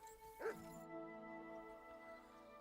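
A single short, high bark-like yelp from a dog in Kingdom Come Deliverance II, then quiet sustained tones continue behind it.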